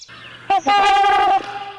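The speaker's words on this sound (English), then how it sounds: "The answer is a trumpeter swan." Trumpeter swan giving a single loud, nasal, horn-like honk that rises sharply and holds for under a second, heard close and alone.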